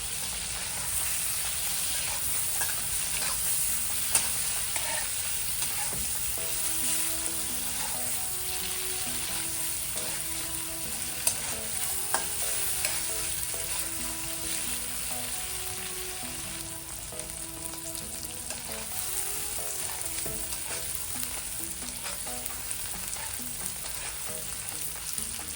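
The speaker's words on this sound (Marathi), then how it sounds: "आपण हे फ्राय करून घेऊया" Paneer cubes frying in hot oil in a pan and being stirred for paneer bhurji, a loud continuous sizzle with scraping stir sounds running throughout.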